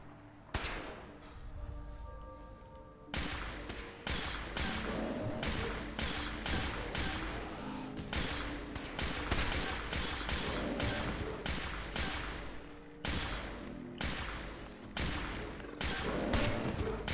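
Rapid bursts of weapon fire in the video game Fallout 4 Far Harbor, a long run of sharp, loud shots in quick clusters with short gaps, close and dominant without talk.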